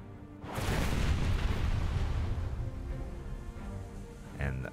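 Incoming naval shell fire in War Thunder bursts as a loud, broad explosive roar that swells and slowly decays over several seconds, with a smaller impact near the end.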